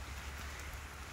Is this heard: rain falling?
yes